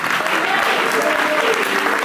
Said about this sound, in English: can we clap for the Lord for Brother Christian and his preaching?